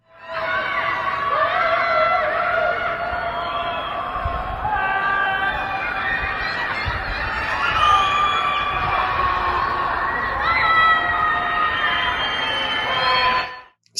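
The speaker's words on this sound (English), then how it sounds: "they're simply wailing. They're simply crying as loud as they possibly can." People wail and cry as loud as they can from Shanghai apartment balconies, a dense chorus of many voices layered into a steady, echoing wall of sound that carries on for the whole stretch.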